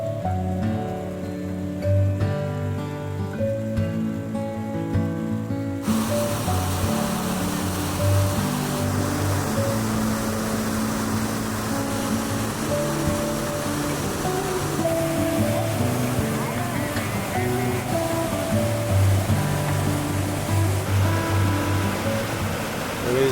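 A waterfall in Geiranger fjord, Norway, roars as a steady loud broadband rush heard close up, its constant wash of water sounding like heavy surf; a soft tonal layer fades away in the opening seconds.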